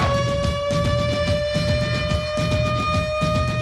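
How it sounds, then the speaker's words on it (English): A sports radio siren sound effect wails steadily and loud, a sustained rising tone with layered harmonics held throughout over a busy background bed. "Here comes the siren."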